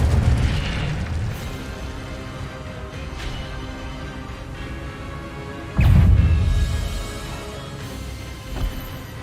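An Incendio fire spell cast in Hogwarts Legacy bursts with deep, booming whooshes, one near the start and a louder one around the middle, over a low rumbling game backdrop.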